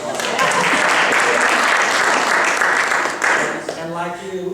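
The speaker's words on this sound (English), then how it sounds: "So let's give Valerie a round of applause" Loud, close applause fills the room at a community meeting, a dense burst of clapping that tails off near the end as a voice begins speaking.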